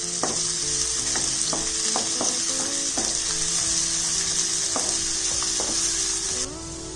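Chopped onions sizzling in a pan while being fried until they change colour, a steady loud crackle with repeated spatula scrapes and clicks throughout, no voices.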